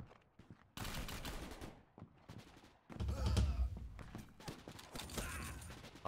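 Gunfire in 7554, a shooter video game, with a few loud bursts of shots rising sharply around the middle of the stretch, set among game noise and a voice talking over it.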